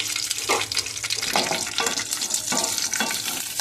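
Grated coconut frying in a pan for stuffed eggplant curry, a steady close sizzle with scraping stirs every half second or so, no talking.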